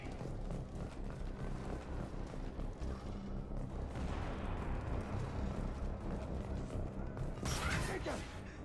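Rapid gunfire in a Mass Effect 2 battle, a dense steady rattle of shots running throughout, with a sharper burst near the end, mixed with game sounds and voices talking.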